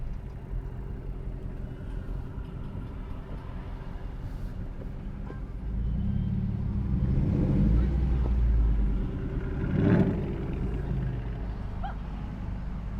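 A Dodge Charger with a Hemi 392 V8 rumbles low on a Las Vegas boulevard at night, swelling louder mid-clip before settling back under steady road noise.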